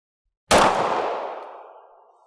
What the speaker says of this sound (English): I'm going to shoot at the top B8 bullseye there.